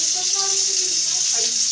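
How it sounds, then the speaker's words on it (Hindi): A child washes clothes by dunking them in water, giving a steady close splashing and sloshing wash throughout, with a voice faintly present. "उसे पानी में डाल डाल के साफ करो"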